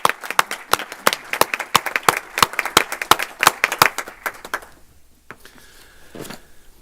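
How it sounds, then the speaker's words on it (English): Scattered handclaps ring out from a small board meeting audience after a high school trumpet quintet, sharp and irregular, thinning out and fading to a few last claps after several seconds. "can we have another round of applause for the Venice High School Trumpet Quintet?"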